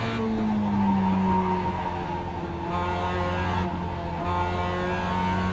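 Race car in the iRacing sim, a loud steady engine drone with tonal whine shifting as the throttle is stabbed and eased, close and continuous with a faint tire-scrub hiss and no talking.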